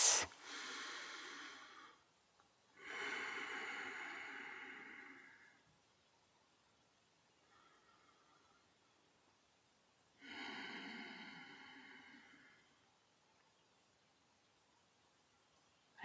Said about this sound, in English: taking a few longer breaths